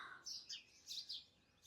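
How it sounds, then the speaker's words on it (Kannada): Small birds, sparrows among them, chirp in a quiet early-morning village at 6 am with no traffic, several short high tweets in quick bursts, faint and somewhat distant against near silence. "ಎಷ್ಟು ಬರ್ಡ್ ಸೌಂಡು ಬೆಳಗ್ಗೆ ಎದ್ದಿದ ತಕ್ಷಣ"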